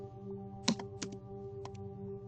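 A PowerShell command being typed on a computer keyboard: a few sparse, close key clicks with short gaps between them, heard over a faint steady hum, with no talking.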